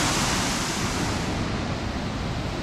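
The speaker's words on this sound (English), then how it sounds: "these waterfalls are really pouring" Gooseberry Falls pours heavily with extra water, giving a loud, dense, unbroken roar of falling water that fades slightly toward the end, with no talking.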